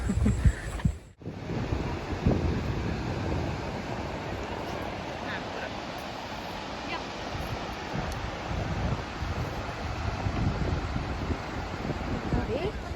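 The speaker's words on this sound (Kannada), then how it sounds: "ಈಚೆ ಸೈಡ್ ಬಂದರೆ ಸಮುದ್ರ ತುಂಬ ಚೆನ್ನಾಗಿದೆ" Sea waves wash onto the shore in a steady broad roar, mixed with strong wind buffeting, after a brief knock at the start.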